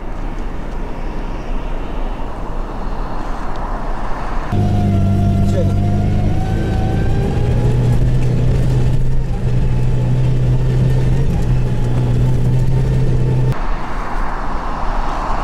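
4x4 trucks and SUVs racing side by side in an off-road drag race, engines roaring loud and close, with a sustained high-revving drone in the middle stretch and a commentator talking throughout.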